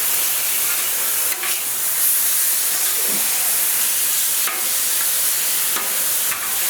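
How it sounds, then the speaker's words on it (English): Onions sizzle on a hot flattop griddle as they are flipped, a loud steady hiss filling the whole stretch, with brief scraping touches now and then and no voices. "We're just going to keep flipping our onions."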